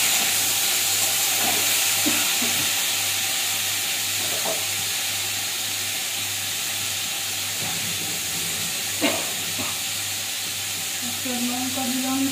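Potatoes seasoned with salt and turmeric fry with chili in a pan, giving a steady, loud sizzle and hiss throughout, with a few soft stirring clinks and scrapes.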